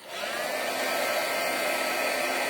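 Steady loud whooshing blast of hot air from a handheld heat embossing tool melting embossing powder on a card, a continuous fan-like roar that starts abruptly and holds evenly throughout.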